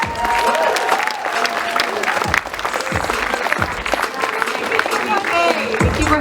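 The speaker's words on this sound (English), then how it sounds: "Let's give a warm applause to Lindsay Smith." Audience applause at a FuckUp Nights storytelling event in Vancouver, a steady crowd clapping that holds loud throughout, with cheers and voices rising within it.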